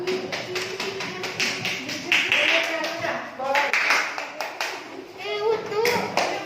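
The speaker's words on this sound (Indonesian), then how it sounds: "Tepuk tangan" Classroom clapping from a group of children and adults after a short group demonstration, a ragged burst of many hands clapping at close range, mixed with lively voices and children's chatter throughout.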